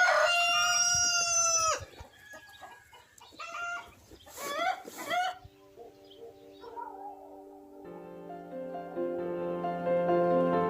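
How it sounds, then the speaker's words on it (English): A rooster crows loudly at the start in an Afghan village, then clucking fowl and other bird calls follow before sustained musical tones rise in the background. "the crowing of a rooster announcing the start of a new day"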